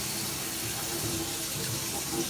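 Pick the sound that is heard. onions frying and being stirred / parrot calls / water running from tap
water running from tap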